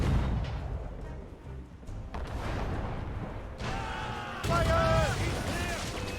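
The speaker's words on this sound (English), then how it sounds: "They're firing, sir!" Ship cannons fire in a naval battle in the video game Assassin's Creed Rogue: deep booming blasts and rumbling impacts over a continuous roar, with shouted voices and crew noise layered on top.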